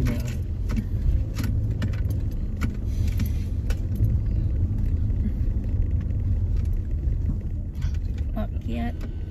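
An SUV climbs a steep, potholed road, its engine rumbling steadily while the cabin rattles and jingles over bumps and people talk inside.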